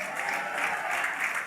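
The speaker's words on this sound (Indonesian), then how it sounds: "Jangan tepuk tangan dulu" Steady applause from a church congregation at a Sunday worship service in Batam, a dense wash of many hands clapping at once that holds evenly through the moment, with no voices rising above it.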